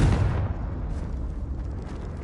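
A loud blast from the Confringo fire spell in the video game Hogwarts Legacy bursts at once, then fades into a rumbling, crackling decay over about two seconds, with no voices.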